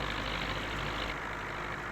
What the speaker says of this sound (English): For an old tractor, I like this thing.